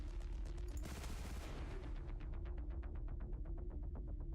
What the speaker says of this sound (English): Your coil guns supposedly do way more damage.